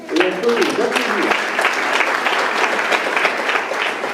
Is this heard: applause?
yes